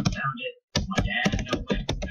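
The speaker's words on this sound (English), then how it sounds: "I'll type it again." Computer keyboard keys clacking in quick bursts, loud and close, with a short pause near the start and a tap-tap rhythm that carries through to the end.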